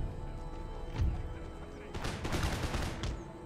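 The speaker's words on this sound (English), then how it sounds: "My desert warriors are going to open fire." Muskets fire in a ragged volley as infantry open up on a battlefield in Empire: Total War, a rolling crackle of many close shots that follows a lone earlier report over steady battle ambience.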